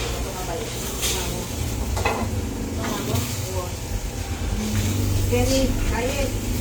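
An egg fries in a dry pan with no oil, a soft steady sizzle running throughout while a voice talks over it at times and faint clinks sound now and then.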